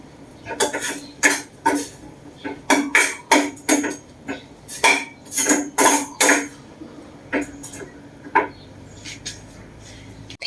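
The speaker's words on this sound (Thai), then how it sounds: "เราก็จะทำการอุ่น จ้า หม้อก็เล็ก ๆกระจิ้วหลิว" A small pot and utensils clatter and knock in quick bursts while food is reheated, with sharp metallic hits repeating in uneven clusters, loud and close, then thinning out toward the end.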